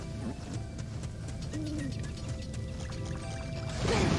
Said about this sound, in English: Oh, it's so nice out here with the waterfall and everything.